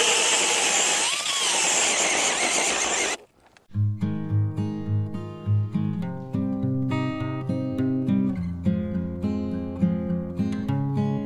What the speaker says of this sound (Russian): Поэтому учусь и продолжаем бурить.